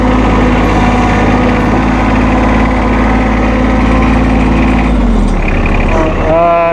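A 2016 John Deere 2025R compact tractor running with its PTO-driven mower cutter engaged, a loud steady engine drone with a whining hum that drops off and changes pitch near the end.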